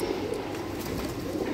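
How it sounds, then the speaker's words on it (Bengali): Pigeons of several breeds coo softly in a steady, low murmur, a close flock sound filling the short moment with no speech. "এখানে আমি বিভিন্ন ধরনের কবুতর নিছি"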